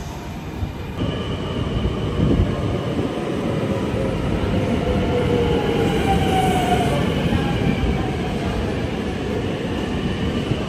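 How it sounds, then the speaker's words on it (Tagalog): Train arriving at a station near Amsterdam, a loud close rumble of wheels on rails with a faint squeal and rolling clatter, continuous throughout. "ito na yung ito na yung train namin"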